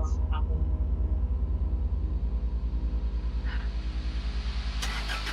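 A car engine in the horror game Cry of Fear idles with a low, steady, rhythmic chugging rumble, loud and close, and a brief sharper burst rises near the end.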